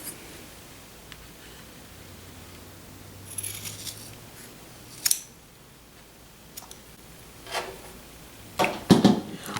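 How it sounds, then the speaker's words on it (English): Scissors snip excess ribbon trim off a towel in a few brief, scattered cuts over a quiet, faintly hissing background, with a slightly longer cluster of snips near the end. "it's at that marking that I'm going to cut off the excess"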